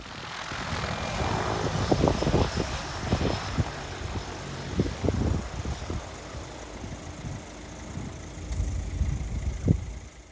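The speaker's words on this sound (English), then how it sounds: "so she has to taxi right down to the far end of the runway and turn round so that she can take off into the wind" A small short-takeoff aircraft on the runway at Barra taxis and powers up for takeoff into the wind, giving a distant, steady propeller drone with scattered wind buffeting and thumps near the microphone.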